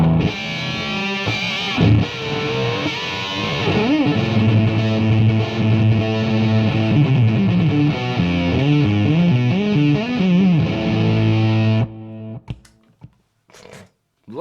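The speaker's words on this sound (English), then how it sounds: "sounds like a fuzz pedal. It doesn't sound like a distortion to me at all." Electric guitar through a Tomsline Firecream vintage distortion pedal, a loud, fuzzy, saturated tone with sustained chords and sliding notes for about twelve seconds before cutting to near silence with a few faint clicks.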